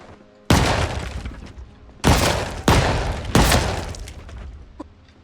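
Gunfire in the zombie survival game Project Zomboid: four loud single shots, the last two close together, each with a long ringing decay, followed by a faint click near the end.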